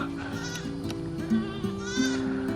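Several goats bleat close by in overlapping, wavering calls, loud and repeated throughout, with faint background noise.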